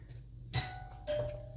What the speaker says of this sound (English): And answer the doorbell.